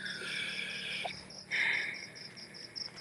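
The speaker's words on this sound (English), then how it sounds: "Yeah, I can hear crickets." Crickets chirp in steady, evenly spaced pulsing trills, faint and alone in the quiet. One brief soft bump breaks in midway.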